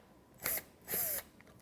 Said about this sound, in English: the first thing I'm going to do is use my drill driver